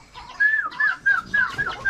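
Chickens clucking close by, a handful of short rising calls in quick succession with a brief pause in the middle.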